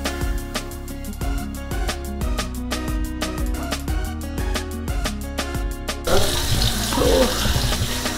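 Tap water runs steadily into a kitchen sink during washing up, a continuous close splashing hiss with some rhythmic clatter underneath that gives way to a louder, fuller rush of water near the end.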